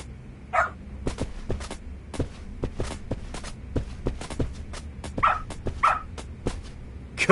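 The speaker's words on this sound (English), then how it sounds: "Good dog. Very good dog." A dog in the PS5 game Lost Judgment gives a few short whimpering yelps and barks amid steady footstep-like taps and game noise, with no talking.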